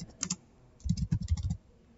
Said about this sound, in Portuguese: Ai, meu Deus, meu teclado tá ruim.